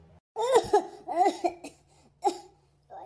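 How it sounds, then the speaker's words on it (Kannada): A person coughs in a home setting, giving several harsh, voiced bursts in quick succession with short gaps between them, close and fairly loud, ending in a final shorter cough. "ಏನು ಕೆಮ್ಮಿದು ಒಮ್ಮೆಟಿಗೆ ಯಾಕೆ"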